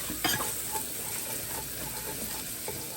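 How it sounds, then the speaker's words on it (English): Utensil scraping browned bits from the bottom of a pot of caramelizing onions for French onion rigatoni, soft scratchy strokes over a low sizzle, close and fairly quiet. "I'm going to continue to scrape up the bits like this to help the onions caramelize a little bit more."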